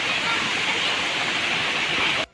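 Brahmadev waterfall at Donivade pours in a loud, steady roar of rushing water, close and continuous, cutting out abruptly at the very end.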